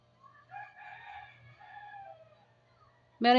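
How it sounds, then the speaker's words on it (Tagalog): A rooster crows nearby in a short, sharp burst at the very end, after a stretch of faint, quieter bird-like calls. "Oh, may ibon ito eh."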